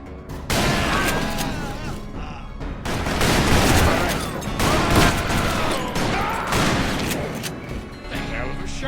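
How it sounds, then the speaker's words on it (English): Rapid Gatling gun fire in the Western shooter Call of Juarez: Bound in Blood, a dense continuous barrage of loud gunshots with booming impacts running throughout. "Gatling gun. Take him out."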